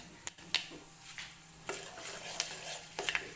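Oil with curry leaves and fenugreek heating in a pan gives a faint, steady sizzle, with a few sharp clinks of stirring on top and no voices.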